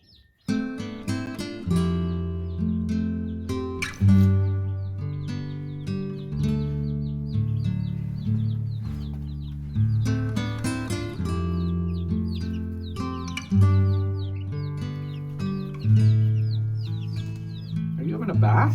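Chickens in a brooder cluck and chirp repeatedly at close range, with steady rhythmic calls running throughout and a person talking over them at times.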